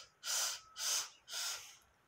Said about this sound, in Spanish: Inhala en cuatro tiempos